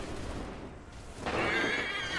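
A horse in Assassin's Creed III gives a loud, drawn-out whinny that rises suddenly out of low background noise and carries on to the end.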